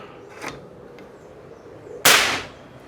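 A single sharp, loud crack from a PCP Big Game air rifle, either a Pasopati or an Apache, fired as the last shot of a muzzle-velocity test, then a short decaying tail; a fainter, softer pop comes earlier.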